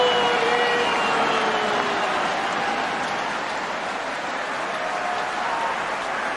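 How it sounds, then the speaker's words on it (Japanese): A huge sumo arena crowd roars and cheers after a bout win, a dense, steady wall of voices and applause that stays loud throughout with no break. "ものすごい歓声が湧き上がります。"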